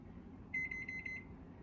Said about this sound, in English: My lunch is beeping, so I'm going to grab it real quick.